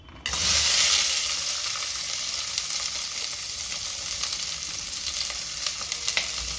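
Chopped tomato, onion, green chilli, ginger and garlic hit hot oil for a mushroom curry, giving a loud, close sizzle that jumps up at the start and then settles into a steady hiss with light stirring crackles.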